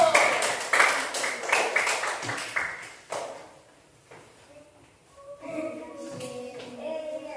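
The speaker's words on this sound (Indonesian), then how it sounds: "beri tepuk tangan dulu" A class of students claps hands in a classroom, a brief burst of scattered applause over the first few seconds that fades out, followed by quieter room sounds and faint voices.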